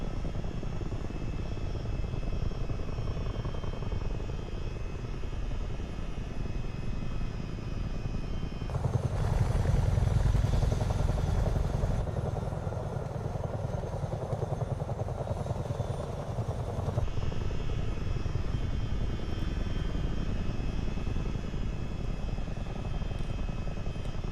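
A Chinook helicopter in Microsoft Flight Simulator 2024 runs at full throttle, its engine and rotor giving a steady, loud, dense roar throughout that swells for a stretch in the middle, with no talking.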